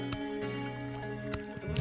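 A pet bowl fills with water in Animal Shelter Simulator video game, a brief close liquid splash and drip layered over steady tonal game music. Short, with a louder burst at the end.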